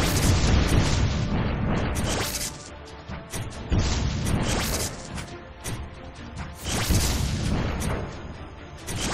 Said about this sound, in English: look at the laser tower going to work. We've got 2 cannons going off.